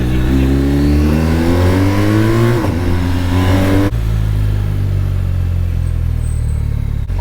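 A BMW R 1250 RT touring motorcycle engine accelerating, a loud steady drone rising smoothly in pitch, dipping briefly at a gear change, then climbing again in a continuous close run.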